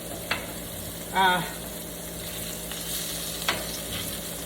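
Potato crisps frying on a Blackstone flat-top griddle, a steady sizzle underneath, with a couple of sharp metal scraper clicks and a short whirring squeal in between.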